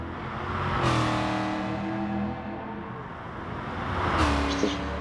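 A 1966 Shelby Cobra engine roars as the car passes, rising and falling twice with gear changes and a brief tyre squeal, loud and close, then fading.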